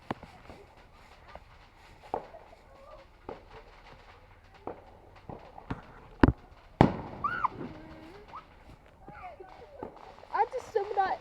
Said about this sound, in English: I'm hearing the fireworks.